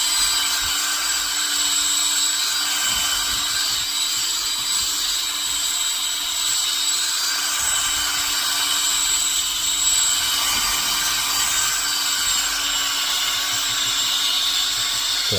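A power drill spinning a roll bonnet polishing pad, a steady high whine with a strong constant tone that runs unbroken and close, with no talking.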